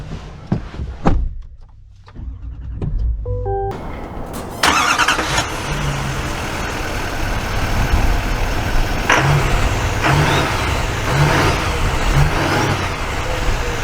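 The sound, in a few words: Duramax diesel pickup truck engine driving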